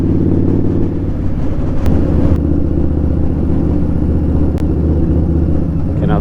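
Indian Scout Bobber motorcycle engine rumbling steadily while riding through a twisty bend, a loud, continuous low drone with shifting harmonics throughout, no voices over it.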